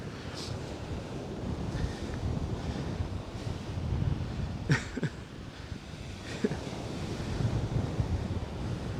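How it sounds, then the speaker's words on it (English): A steady wash of winter ocean surf at Coney Island, New York, blended with rumbling wind on the microphone, with a few faint clicks and knocks. "At least you guys can really hear the ocean nice today."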